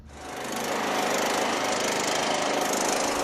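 A Husqvarna lawn tractor, repowered with a 21 hp Briggs V-twin engine, runs with a loud, close, rough drone that swells over the first second and then holds steady.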